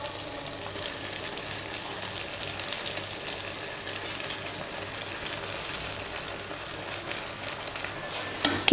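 Manathakkali greens with onion and tomato sizzle and hiss steadily as they are sautéed in a pan, a bright, even frying crackle throughout, with a few soft clinks of stirring near the end.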